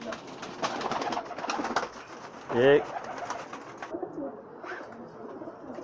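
Pakistani China pigeons coo a few times in the distance, under someone talking.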